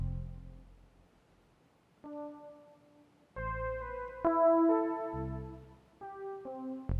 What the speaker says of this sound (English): Like the default sequencer that comes with this patch sounds like this.